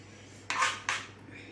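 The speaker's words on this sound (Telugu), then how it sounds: "ఇప్పుడు టమాటా కట్ చేసుకుందాం" A knife cuts through a tomato in a home kitchen with two crisp, close chops about half a second apart, over a faint background hum.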